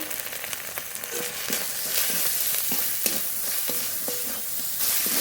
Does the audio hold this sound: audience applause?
no